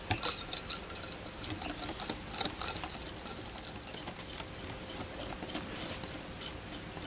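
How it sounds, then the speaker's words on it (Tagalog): Bibingka batter with fresh milk being stirred in a bowl, a steady run of faint scraping and light clinking from the utensil, close by and without speech. "Haluin natin mabuti."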